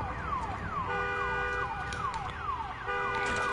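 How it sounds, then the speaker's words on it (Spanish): An alarm siren in the video game Days Gone wails in a steady repeating pattern of falling sweeps layered with a sustained tone, moderately loud against a faint background, with no speech. "¡Y había una alarma!"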